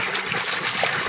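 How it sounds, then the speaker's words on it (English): Water spraying from a submersible pump sitting in a bucket, an 880 GPH hydroponics and pond pump, makes a steady close trickling and splashing hiss that runs unbroken throughout. "nine inches of spray out of the bucket, or out of the top of the bucket"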